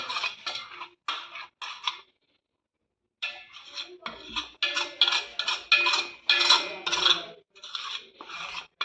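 Ingredients for a summer drink are stirred and mixed in a vessel, giving repeated metallic scraping and clinking in short bursts, with a brief pause before the stirring resumes more steadily.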